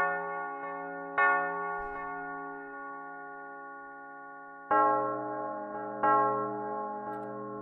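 Synthesized bell tones in a hip-hop type beat, ringing harmonic chimes struck at irregular intervals with long sustained decays, clear and prominent with no voices.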